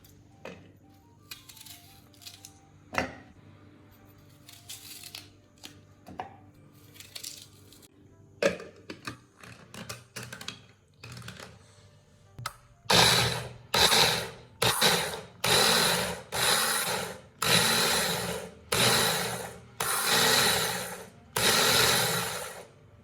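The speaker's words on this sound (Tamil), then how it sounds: "ஃபர்ஸ்ட் வெங்காயத்தை சின்ன சின்னதாக கட் பண்ணி எடுத்துக்கலாம்" A knife chops onion into small pieces on a board for a chicken omelette, first a few scattered taps, then a steady run of about a dozen loud, close, rhythmic strokes.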